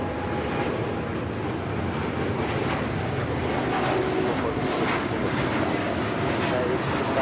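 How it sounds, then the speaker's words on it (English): United Airlines Boeing 787-9 Dreamliner taking off from Los Angeles LAX bound for Newark; a thick, unbroken jet roar fills the whole stretch at a constant, fairly loud level. "1855 taking off to Newark on the 787-9 Dreamliner."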